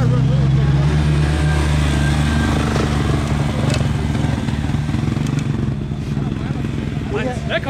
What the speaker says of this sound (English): Nice little motor in there.